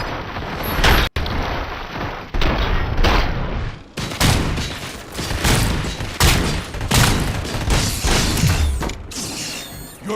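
Continuous gunfire in the video game RoboCop: Rogue City, a dense, loud fusillade of repeated shots with mechanical clatter, running for about ten seconds with a few brief pauses and no talk.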